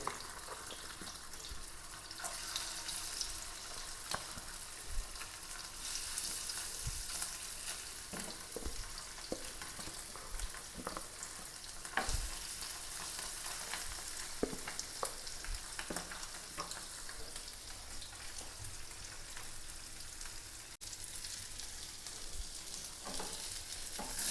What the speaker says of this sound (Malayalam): ഇപ്പോൾ ഒരു 3-4 കഷ്ണം അയില വറുത്തെടുക്കണേ കേട്ടോ